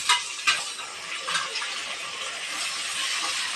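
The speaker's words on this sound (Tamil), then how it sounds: "இப்போ தக்காளி சேர்த்துக்க போகிறோம்." Tomatoes sautéing in a pan after onions have softened, a steady close sizzle with a couple of sharp clinks or stirring knocks near the start, no talking.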